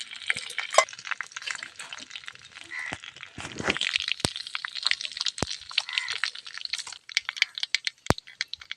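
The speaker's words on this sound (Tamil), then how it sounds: "எண்ணெய் காஞ்சிக்கிட்டு கடுகு போடு" Mustard seeds dropped into hot oil in a pan for a drumstick-leaf poriyal give close, dense crackling and spitting, with sharp pops scattered throughout and a busier burst in the middle.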